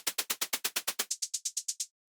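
Synthesized hi-hat made from white noise, a rapid run of about sixteen short hissing ticks, the first half full-bodied and the second half thinned and brightened once a bandpass filter is applied, faint and alone.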